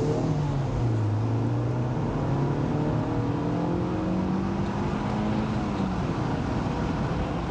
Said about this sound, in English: Engine to rev out all the way.